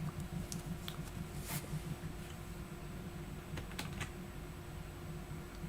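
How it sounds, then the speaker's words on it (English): Computer keyboard being pressed a few times, with scattered soft clicks and taps over a faint steady hum, quiet and close with no talking. "See if my screenshot's working on my keyboard."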